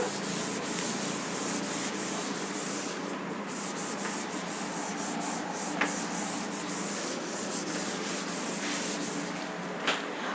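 A board being rubbed clean ahead of drawing a diagram makes steady, continuous scrubbing and rubbing strokes that stay close and fairly loud throughout, with a couple of faint knocks along the way.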